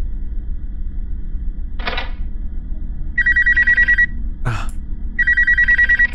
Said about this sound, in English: The phone. Telephone line wasn't cut? Is it back on? I should answer it, I guess.